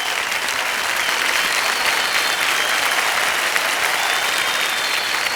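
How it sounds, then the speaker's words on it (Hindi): Sustained studio audience applause at a TV quiz show, steady and dense throughout as the crowd claps for a contestant winning the hot seat. "जोरदार तालियां बज जाए"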